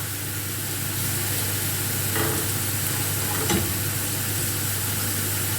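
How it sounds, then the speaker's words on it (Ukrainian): Onion and carrot frying in a pan for cabbage soup, a steady close sizzle with a faint stir or two, no talking. "І продовжуємо жарити"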